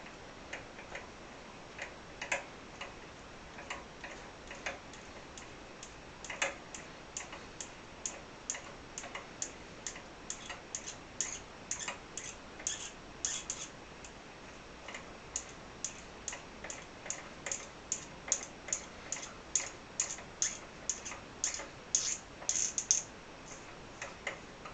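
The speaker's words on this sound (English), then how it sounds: "Mounting holes drilled and tapped in one bearing block" A hand tap cuts threads into drilled mounting holes in a bearing block for a vertical engine, giving a long run of soft, regular ticking clicks that grow slightly louder and denser toward the end.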